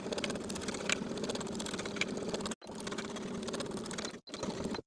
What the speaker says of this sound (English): Now we're going to sew the fly to the left front pant from the top to the large dot